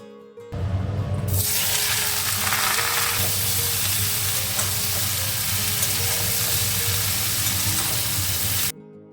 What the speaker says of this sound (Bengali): তো সবজিগুলো একটু ভাজা ভাজা করে নিয়েছি নুন হলুদ দিয়ে আর একটু বেশি করে কাঁচা লঙ্কা দিয়েছি